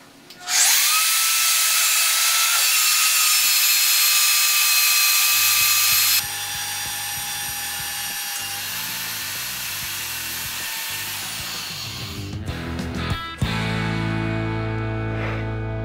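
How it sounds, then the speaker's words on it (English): Magnetic annular drill boring through steel plate for a column bracket, a loud sustained high whine that shifts pitch partway through, then winds down with rattling clicks near the end. "engage the magnet, and start drilling, and you can just see how smooth and effortlessly this thing drills through"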